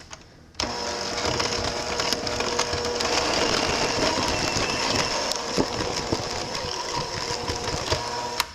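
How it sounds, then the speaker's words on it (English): A blender whirs steadily through pumpkin bread mixture, switching on abruptly after a short quiet stretch and running loud and continuous with a grinding, rattling texture until it stops at the end. "I'm gonna add like half of this pumpkin mixture to this bowl. And then blend it up,"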